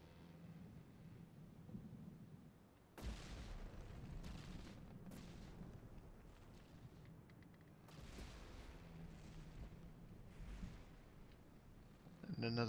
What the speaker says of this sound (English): And another big blast underwater there